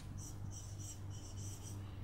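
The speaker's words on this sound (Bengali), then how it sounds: "আমি লিখছি তোমরা দেখো" Pen or pencil writing by hand on paper during an English grammar lesson, a steady scratching rasp in short bursts over a low background hum, close and faint.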